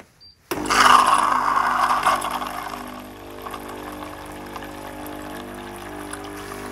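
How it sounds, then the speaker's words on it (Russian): Philips EP1220 coffee machine pumping water to fill its system: an abrupt start into a loud buzzing pump whir with gurgling flow, easing after a few seconds into a steadier, quieter hum. "надо наполнить систему водой. То есть нажимаем подачу воды."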